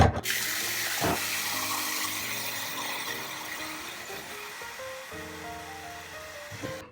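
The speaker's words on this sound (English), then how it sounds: "go ahead and fill this up with water now" Tap water rushes into a Brita UltraMax water filter dispenser with a continuous splashing flow, the pitch slowly rising as it fills, close and fairly loud.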